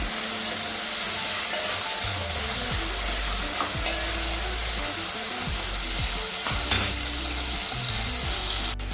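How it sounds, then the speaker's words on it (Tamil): Tomatoes with a little rock salt sautéing in a pan for sambar rice, a steady close sizzle with scraping stirs throughout, no talking. "தக்காளி எல்லாம் அதுக்காக போடுறது. நல்லா வதங்கட்டும்."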